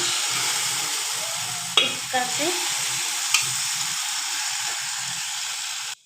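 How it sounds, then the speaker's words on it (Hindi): Grated carrot stirred into roasted semolina for carrot halwa, over a continuous frying hiss with a few distinct spoon clacks and scrapes against the pan. "इस प्रकार से चलाते हुए मिक्स कर लेंगे"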